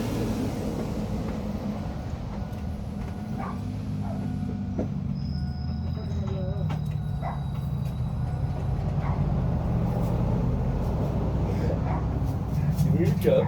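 A freshly rebuilt GM 2.2 engine runs with a steady, loud low rumble through its exhaust pipes, continuous for the whole stretch, while people talk nearby.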